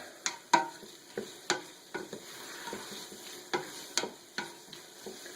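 Garlic and onions sizzle in a pan for chili, with a steady frying hiss broken by repeated sharp clicks and scrapes of a utensil stirring, close and moderately loud, with no talking.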